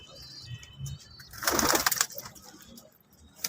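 Pigeons on a rooftop in Hyderabad make soft cooing, then a sudden loud flurry of flapping wings as birds take off. Faint background noise continues around them.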